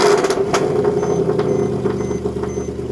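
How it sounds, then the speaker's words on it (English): A Mercedes C63 AMG fitted with aftermarket headers idling loudly right after a cold start, a steady low rumble with a faint repeating beep in the background. "it's time for me to hear my first cold start"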